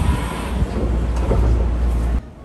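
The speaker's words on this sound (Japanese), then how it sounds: "発車後すぐに分岐器を通過します" A Hankyu Kyoto Line train, just after departing, rolls over a railway switch: a loud, steady rumble with a few clunks, heard from on board, ending abruptly near the end.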